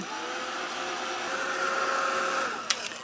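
A heat gun blows a steady, loud whirring hiss while setting paint on a gel print, ending with a couple of sharp clicks near the end.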